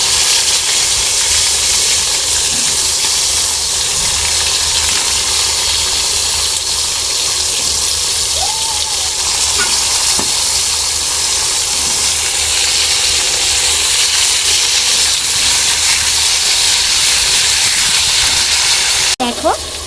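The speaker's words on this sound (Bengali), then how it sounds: "তেলটা গরম হয়ে গেছে, এবার একটা একটা করে পটলগুলো সব ছেড়ে দেবো" Sliced pointed gourd fries in hot oil, giving a loud, continuous broadband sizzle and hiss that holds steady and close throughout, with a brief clink near the end.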